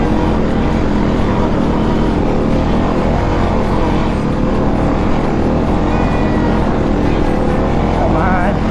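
Dirt bike engine revving hard while climbing a steep uphill dirt road in first gear, a loud continuous roar with wind buffeting close to the rider.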